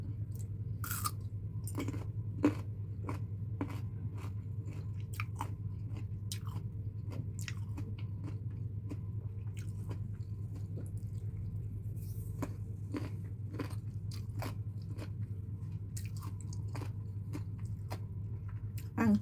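Crisp, repeated bites and wet chewing on fresh green mango dipped in bagoong alamang shrimp paste, close to the mic, with a steady low hum underneath and no talking.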